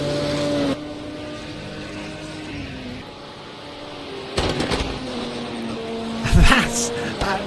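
Race car engines, including LMP2 prototypes, drone and shift pitch in a racing video game, with sharp bursts and pops from exhaust near the end.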